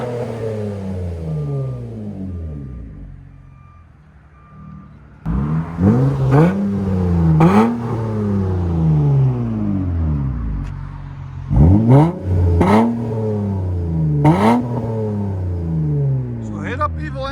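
A 2013 Acura TL with a 3.5L V6 and an Evil Energy stainless resonator revs repeatedly. The engine settles into a steady idle between several sharp, loud blips. The revs come in two clusters, near and clear, with no talking.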